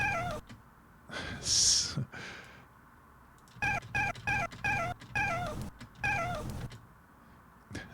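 A cat's meow mixed into a rhythmic, staccato electronic track made from cat sounds, with short chopped meow fragments repeating in a stuttering pattern and a brief bright tone near the start, fairly faint overall.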